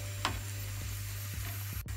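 Onions fry in hot oil with a soft, steady sizzle, broken by a few light ticking pops and spoon touches, heard close but fairly quiet.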